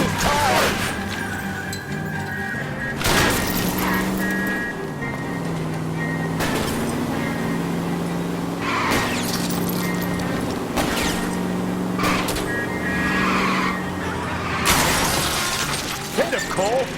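A car chase in the game L.A. Noire brings loud engine roar, repeated heavy crash impacts and skidding, with voices talking over the action.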